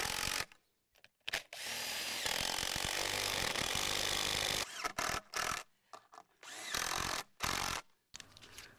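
A power drill drives a lag bolt through a piece of wood into a wooden pasture fence post, running in several bursts: one long steady whir, then shorter stop-and-start pulses, close and loud.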